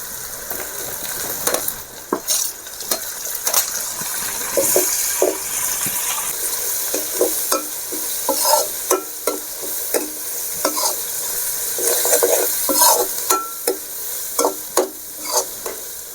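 Onions and tomato pieces fry in oil as they are stirred, a close sizzling hiss punctuated by repeated scraping and clinking of the spoon against the pan, with no talking.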